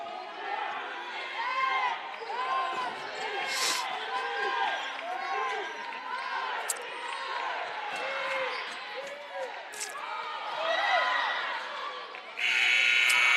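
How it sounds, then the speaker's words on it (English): A loud buzzer sounds at the end of the first half of a women's college basketball game between Rutgers and Rowan, over ball bounces, sneaker squeaks and crowd noise, while a commentator talks throughout. "And the shot at the buzzer won't fall as Poulos couldn't convert"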